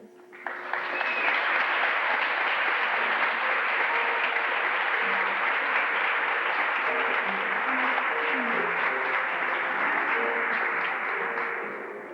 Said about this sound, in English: I'd like you to give a big round of applause to Miss Congeniality, Jessica Olson